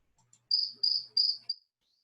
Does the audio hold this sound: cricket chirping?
yes